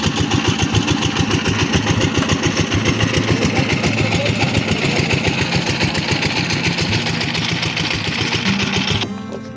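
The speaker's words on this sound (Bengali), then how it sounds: "মেশিনটা খুব সুন্দরভাবে কাদা দিচ্ছে আর এই কাদাগুলো মেশিন করে নিয়ে যাচ্ছে" A clay-feeding and conveying machine in a brick factory runs loudly and continuously, with a fast, even mechanical chatter and engine-like drone that cuts off abruptly near the end, with no voices.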